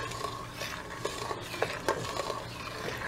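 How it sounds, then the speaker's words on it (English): Wild Santa Rosa plum jam with sugar and pectin is stirred in a pot over a small flame on the stove, with close scraping spoon strokes and light clinks against the pot over a low hiss. "After a few minutes of stirring this in"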